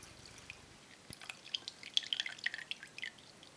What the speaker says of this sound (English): now I'm just going to empty the washer out of the pipe at the back into this